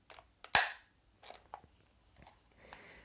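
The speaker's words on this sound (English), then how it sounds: "it makes a horrible click when you put it back" Casio LCD handheld TV's stiff kickstand snapping shut, one sharp loud click followed by a few fainter plastic taps and handling clicks, close up with no voices.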